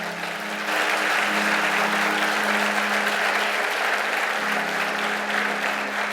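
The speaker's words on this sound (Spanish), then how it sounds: "Dale ese fuerte aplauso a Dios." A church congregation breaks into loud, sustained applause, clapping filling the room continuously for several seconds, with a faint tonal hum of music beneath.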